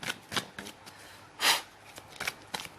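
Tarot cards being shuffled up close, a series of quick papery riffles and slaps with one longer, louder riffle in the middle, no talking.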